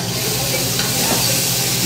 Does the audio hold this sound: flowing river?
no